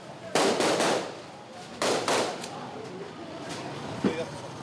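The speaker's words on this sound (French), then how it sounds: "Les tirs de sommation de la police ajoutent à la confusion." Police warning shots fired in a Haitian street during gang violence, two loud sharp volleys of rapid cracks followed by a fainter later shot, with voices faintly in the background.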